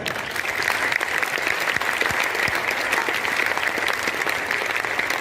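A dense wash of audience applause fills the whole stretch, steady and fairly loud, with many hands clapping at once and no voices standing out.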